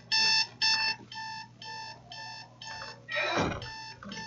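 Loud electronic alarm beeping in the video game Dead Space 2, a steady repeating pattern of sharp tones with a burst of noise that briefly cuts across it near the end.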